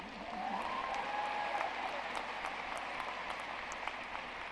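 Applause from the audience at a university undergraduate commencement ceremony, steady and fairly distant, with a voice speaking briefly over it.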